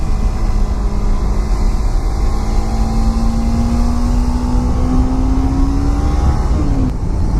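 A Kawasaki Ninja 300 motorcycle engine drones loudly and steadily under a rider, its pitch climbing slowly as it accelerates, then dipping briefly near the end, with heavy wind rumble throughout.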